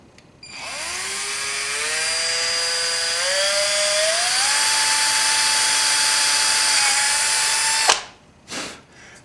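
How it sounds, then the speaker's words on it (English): A power drill drills into a BMX bicycle pedal, whirring loudly and steadily for about eight seconds, its pitch rising as it spins up, then cuts off, followed by a couple of brief clatters. "going to drill that out."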